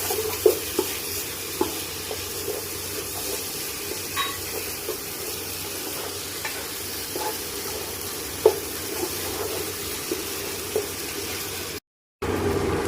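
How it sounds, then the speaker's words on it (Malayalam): Yogurt is stirred into mutton dum biryani masala in a pot, a low bubbling sizzle carrying light, scattered clicks and scrapes of a spoon, close and steady with a brief cut to silence near the end. "ഒരു 4 സ്പൂൺ തൈര് ചേർക്കണം. എന്നിട്ട് നമുക്ക് നന്നായിട്ടിത് ഇളക്കാം."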